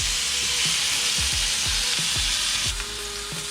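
A steak sizzles loudly and steadily in a hot oiled pan, a dense crackling hiss that stays close and constant, joined by faint low knocks.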